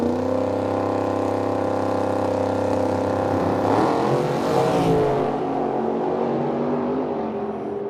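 A small drag racing roadster in the left lane roars down a Medicine Hat racetrack, its loud, sustained engine note building and sweeping past before fading away into the distance, with no talking heard.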